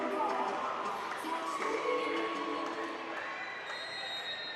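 A crowd at a women's college volleyball match between Cincinnati and Arizona, cheering in a steady, moderately loud roar that eases slightly toward the end, with an announcer talking over it.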